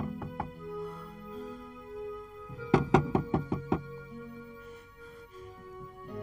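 Knocking on a wooden door in a martial arts costume drama: a few soft taps, then a quick burst of about six sharp, loud raps close by, with no talking.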